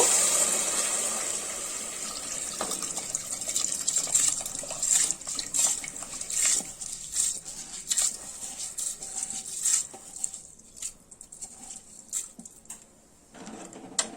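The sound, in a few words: soaked jeera samba rice being added to the pot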